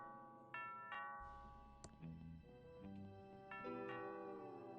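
A doorbell in the point-and-click game Thimbleweed Park rings out in a few clear chiming tones over soft game music, fairly quiet, with no talk.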